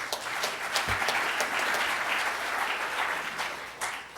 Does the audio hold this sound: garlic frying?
no